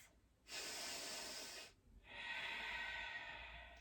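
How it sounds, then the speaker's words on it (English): Ujjayi breathing in a yoga class: two long, close, hissing breaths, an inhale and then an exhale, separated by a short pause, with no talk. "Try to stay with the Ujjayi breath."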